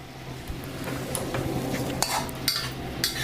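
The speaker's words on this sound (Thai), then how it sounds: "ผัดจนกว่าผักสุด" A utensil stirs and scrapes vegetables in a pan of Thai jungle curry with cartilage and holy basil, with faint sizzling under sharp metallic clinks.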